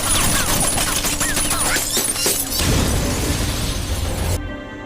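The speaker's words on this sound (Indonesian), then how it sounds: "menembak polisi tersebut dengan brutal sampai mobilnya meledak" Gunfire and a police car blowing up in an action film scene, a dense loud barrage of shots and crashing bursts followed by a heavy low boom, with faint tonal music underneath, cutting off abruptly near the end.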